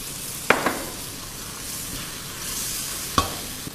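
Shrimp and pumpkin cooking broth going into a pan, with a soft continuous sizzle and a couple of sharp utensil clinks from stirring, no voices.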